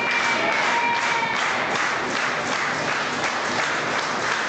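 Rowdy crowd at Houston's Premier Arena cheering and clapping during a women's wrestling match, a loud, dense, continuous wash of applause and roar filling the whole moment.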